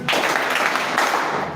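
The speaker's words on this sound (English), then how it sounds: "Give me 3 claps." A live audience claps steadily on request, a dense, continuous burst of applause at close range lasting under two seconds with no voices over it.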